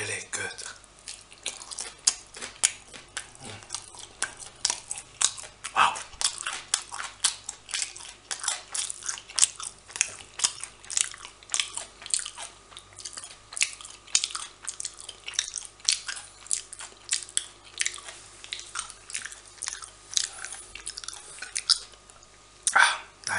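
Avocado and salmon sushi rolls are eaten up close, giving soft, repeated wet chewing and crunchy bites in an irregular rhythm against a quiet background.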